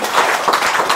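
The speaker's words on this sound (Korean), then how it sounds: "박수 한번 쳐주세요" An audience at a temple's third-anniversary dharma service claps, a dense, loud burst of hand claps filling the short moment.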